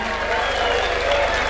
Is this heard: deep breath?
no